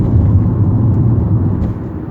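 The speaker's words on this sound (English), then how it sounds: "Clutch, fourth gear. Accelerating some more." A manual-transmission car accelerates in fourth gear with a loud, steady low engine drone, close inside the cabin, easing slightly toward the end.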